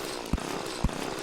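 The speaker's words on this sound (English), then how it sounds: "Oh yeah, so I made myself a chainsaw." A chainsaw whirs steadily in the video game Terraria, a fairly quiet continuous buzz broken by two short low thumps as it bites into wood, with no talking.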